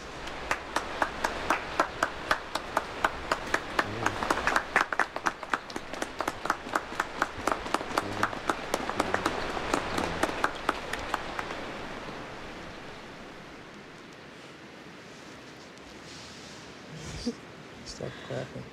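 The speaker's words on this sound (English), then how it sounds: "Stop clapping." Guests at a wedding ceremony break into clapping: sharp rhythmic claps ring out close and loud amid a growing wash of applause, which thins and fades to quiet, with voices speaking over it.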